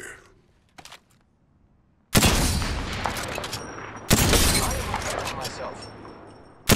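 Gunfire crackles in the Apex Legends battle royale shooter, two dense bursts of rapid shots arriving abruptly after a quiet stretch, loud and close, with a brief spoken word early on.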